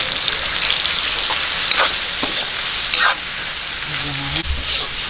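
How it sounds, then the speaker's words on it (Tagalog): Pork and chicken gizzards sauté in a hot pan, giving a steady broadband sizzle with occasional stirring scrapes and clinks, fairly loud and close, with no voices. "bisa-bisahin lang po natin hanggang mag-light brown yung ating pork"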